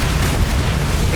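A Bombarda spell blast in Hogwarts Legacy erupts as a short, loud, rumbling explosion with a dense, noisy boom filling the whole moment.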